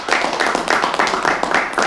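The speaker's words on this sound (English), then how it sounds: "Let's give a round of applause for, again, our Toastmaster today for the Speakathon, Melissa Shoemaker." Applause from a small audience at a student Toastmasters speakathon, a brief run of rhythmic hand claps lasting under two seconds, fairly near and moderately loud.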